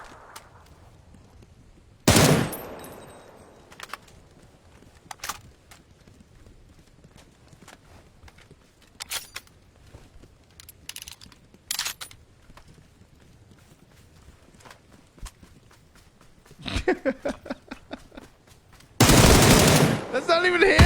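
Bursts of video game gunfire, with loud rapid volleys near the start and end and scattered single shots in between, over quieter game background.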